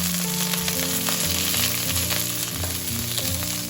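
Urad dal, dried red chilies and curry leaves sizzling steadily in hot oil for a South Indian tempering, a close, continuous crackle and hiss with faint background hum and no talking.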